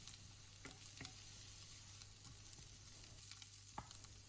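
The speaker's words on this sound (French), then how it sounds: "vous faites chauffer une cuillère à café d'huile de coco et vous faites revenir les oignons et les carottes" Onions and carrots fry in a spoonful of coconut oil, a steady close sizzle with a few sharp crackles and scrape-like clicks from stirring, alone without any voice.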